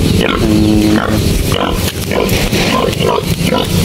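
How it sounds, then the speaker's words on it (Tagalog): A boar pig in the Philippines, in Catanauan, Quezon province, grunts and snorts loudly and close while eating wheat mixed with bran, with repeated rough grunts over steady farmyard noise and someone talking nearby. "Ay, anong pakain ng barakong baboy natin? Trigo. Ayan, trigo na pinaglahok na ipa."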